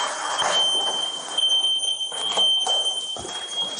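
A house smoke alarm, set off by a pot of oil burning on a kitchen stove, sounds a continuous piercing high tone with pulsing breaks, heard fairly close amid faint background rustle.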